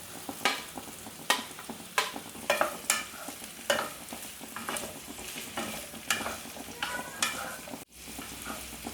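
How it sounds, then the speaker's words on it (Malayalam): Frozen green peas and mixed vegetables sauté in a pan for a restaurant-style veg kolhapuri curry, with steady sizzling broken by repeated sharp scrapes and clatters of a spoon stirring, close and fairly loud, with no voices. "ഇതിലേക്ക് ഇനി ഫ്രോസൺ ഗ്രീൻ പീസ് ഇട്ട് കൊടുക്കാം."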